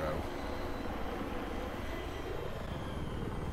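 An attack helicopter in Battlefield 3 holds steady in flight, its rotor and engine drone a faint, even hum that runs without a break.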